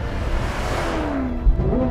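A supercharged 650 hp Corvette C7 Z06 roars around a track, its loud engine note rising and falling through a shift while wind rushes past close by.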